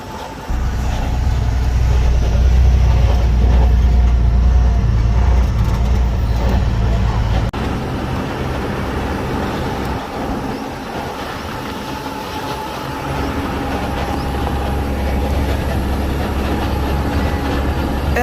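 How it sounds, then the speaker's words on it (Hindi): Steady low engine rumble and road roar from inside a tall, ornately decorated truck driving past village fields, loud and continuous, easing slightly midway, with faint talk under it. "चल रहे हैं ज़बरदस्त गाँव खेतों को देखते हुए ऊंची एक लोरी के अंदर"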